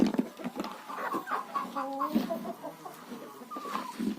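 Several young hens cluck and murmur close by in a scattered, continuous chatter, with soft scuffling in the background.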